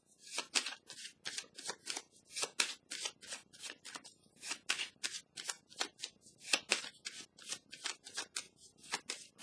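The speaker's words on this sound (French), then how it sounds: "Est-ce que je devrais piger une carte pour déposer sur celle du mouvement à l'envers?" Tarot cards handled and shuffled from a deck during a reading, a rapid series of crisp riffling card sounds in close, steady bursts with no talking.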